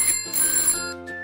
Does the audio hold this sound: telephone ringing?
yes